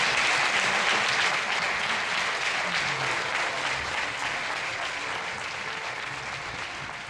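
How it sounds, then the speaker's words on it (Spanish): An audience gathered for a Spanish lecture welcomes the speaker Antonio García Trevijano with full, sustained applause that starts loud and gradually fades over several seconds, with no voices. "Recibamos con un aplauso a Antonio García Trevijano."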